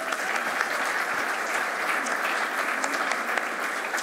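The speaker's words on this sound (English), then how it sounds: "Let's give Becca a round of applause." A crowd applauds steadily, a dense wash of clapping hands that holds at an even level from start to finish.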